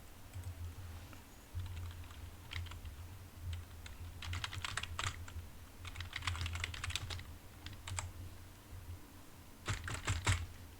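Computer keyboard typing in irregular bursts of quick, close clicks separated by short pauses, set against a steady low hum, while entering text in a design program.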